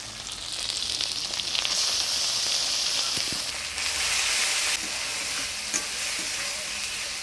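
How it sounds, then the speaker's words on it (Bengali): Ground coriander, cumin and chili paste fry and sizzle in a pan for a Bengali village-style fish curry, a loud bright hiss with intermittent scraping stirs and small pops, close up with no talking. "সব মশলাপাতি দিয়ে নাড়াচাড়া করে নিলাম"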